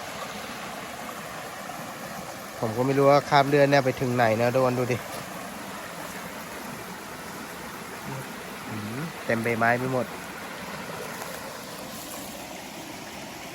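Steady rushing of a flowing stream below a waterfall fills the background throughout, while someone talks over it in two short stretches.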